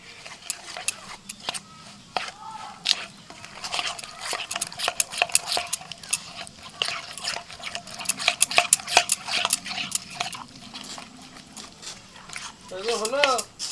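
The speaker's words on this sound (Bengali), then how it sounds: "এবার ভালো করে মিশিয়ে নেবেন" Tandoori chicken marinade being mixed with spices in a bowl, with quick wet squelching and clinking scrapes in an irregular rhythm at close range, and a few brief voices in the background.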